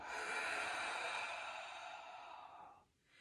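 A long, breathy exhalation during a gentle stretching exercise, soft and close, lasting nearly three seconds before trailing off into quiet.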